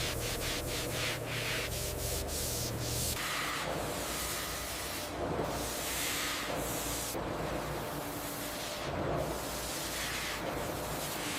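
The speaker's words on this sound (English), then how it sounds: "Finer abrasives refine the surface, preparing it for its ultimate lustrous finish." Floor tile being polished with finer abrasives on a factory line, a continuous loud grinding and rubbing hiss with periodic swelling sweeps as the heads pass over the surface.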